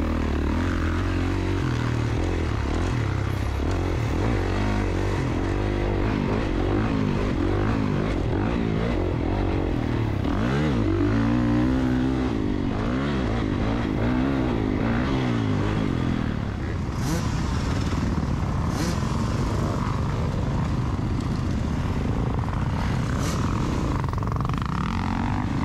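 A dirt bike runs laps on the Moto541 motocross track early in the morning, its engine droning loud and close throughout with repeated rising and falling revs as it works through the course.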